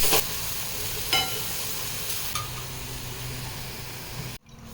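Boiled mung dal with spinach and peas drops into hot tempering of cumin in a pan and sizzles loudly, with a few sharper splashes, then the hiss cuts off abruptly near the end.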